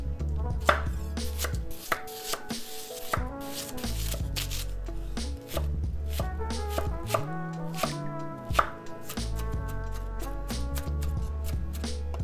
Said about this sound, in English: the sounds of a knife cutting through vegetables and making contact with a wooden cutting board underneath